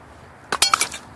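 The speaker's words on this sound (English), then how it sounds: "we got glass here" Broken glass pieces clink against each other in a few quick, bright taps, close by and fairly loud against a quiet background, with no voices.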